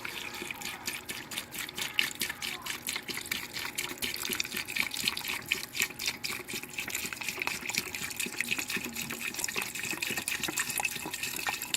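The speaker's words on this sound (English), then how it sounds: "I'm going to go ahead and add my beef broth." Beef broth pours steadily into a cooking pot for oxtails, a continuous liquid splash and trickle with no talking over it.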